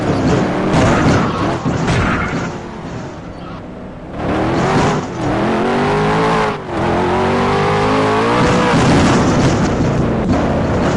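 The Intrepid car being driven in Roblox: a loud, steady engine drone that revs and shifts pitch through gear changes, dipping briefly twice, with no voices over it.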